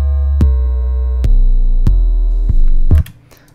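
A booming 808 bass in a beat made in FL Studio, sustained deep tones retriggered about every second under short percussive hits, loud and dry, then cutting off abruptly near the end.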